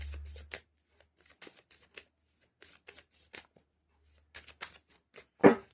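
Tarot cards are drawn from a deck, giving soft papery slides and flicks in scattered short bursts, close and quiet, ending in one louder snap.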